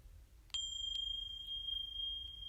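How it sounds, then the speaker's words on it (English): Tiny high-pitched bells struck once at the top of a set of singing bowls and chimes, giving a bright, clear ring that sustains steadily and fades slowly, with a second light strike partway through. "we hit the teeny tiny bells at the top"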